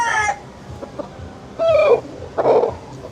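A three-year-old gamecock rooster makes a few short, close clucking calls with brief pauses between them. No one speaks.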